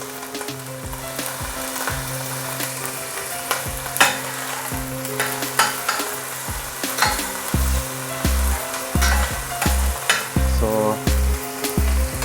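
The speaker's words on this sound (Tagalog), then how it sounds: "Need to saute the onion" Onion sautéing in a pan for Filipino-style chicken curry, a steady close sizzle with intermittent stirring clatter and scraping throughout.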